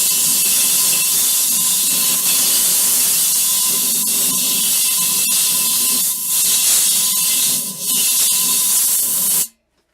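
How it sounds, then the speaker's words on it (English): Compressed air blowing out a chainsaw gas tank, a loud steady hiss that runs almost unbroken for about nine seconds and then cuts off abruptly. "So I always clean out the gas tank, like blow it out with air."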